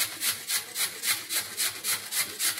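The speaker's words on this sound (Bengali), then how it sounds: "এই দেখুন, আলুটাকে ঘষে নিচ্ছি, আমাদের ঘষতে হবে।" A potato is grated by hand for a Holi-special dahi vada, making about nine even, rhythmic rasping strokes, close and clear with no talk.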